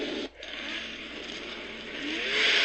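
A chainsaw revs steadily in Silent Hill 2 during the Abstract Daddy boss fight, a loud continuous buzzing roar with a brief dip near the start and a swell toward the end.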